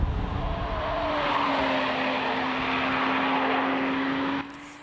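BMW M3 road car driven hard by racing driver Will Hoy, tyres squealing in a long sustained screech over a loud engine roar, close and continuous before cutting off.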